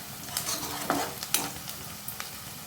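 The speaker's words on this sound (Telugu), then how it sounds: "పెనం పెట్టేసి ఆనియన్, పచ్చిమిర్చి వేసుకో అవి గోల్డెన్ కలర్ వచ్చిందాక మనం మగ్గిద్దాం" Chopped onions and green chillies frying in a pan, with a spoon stirring and scraping in a few quick strokes over a soft, steady sizzle; no talking.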